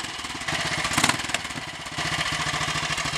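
A 1955 Royal Enfield 500 motorcycle engine, a long-unused greenlaner, runs with a loud rhythmic thump after being kicked over, rising briefly in a rev before settling back into a steady idle.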